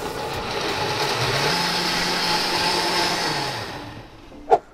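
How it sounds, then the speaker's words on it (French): A blender whirs steadily as it mixes lemon juice with a pinch of fleur de sel, a close, even motor roar that winds down, followed by a single sharp knock at the end. "Et on met le tout en mixage."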